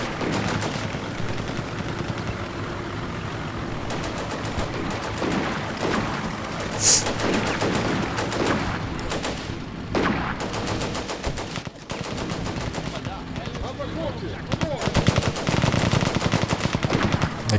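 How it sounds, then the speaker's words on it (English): Machine gun fire rattles through a Combat Mission World War II battle, with dense rapid bursts and scattered gunshots running almost continuously, loud and close, plus a sharper crack near the middle and heavier volleys toward the end. "They're still fighting with their machine gun."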